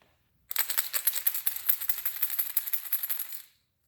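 Three silver coins clatter and jingle together in a quick metallic rattle lasting about three seconds, bright and close, then stop abruptly.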